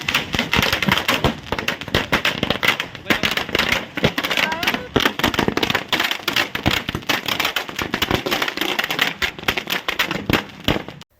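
Firecrackers set off by BJP party workers celebrating an election win in Bhiloda: dense, continuous rapid crackling and popping bursts, loud and close, running nonstop with crowd noise and voices mixed underneath.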